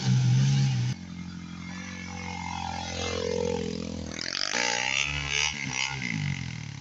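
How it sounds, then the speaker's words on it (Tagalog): A motorcycle engine, used for trail riding, idles then revs up and down in rising and falling sweeps, fairly close and moderately loud, with a clattering mechanical edge. "pumipihit yung motor"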